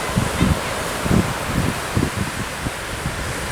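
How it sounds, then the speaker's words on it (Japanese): Strong wind buffets a walkway on the Pacific-facing coast at Cape Irago, a loud, constant roar with gusty thumps on the microphone, and faint surf may sit underneath. "この日は風がすごく強くて日傘がひっくり返るほどでした"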